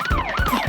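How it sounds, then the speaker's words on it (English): Cartoon police car siren, a loud close wailing tone rising and falling in a quick cycle, alone without speech. "Oh no, police car!"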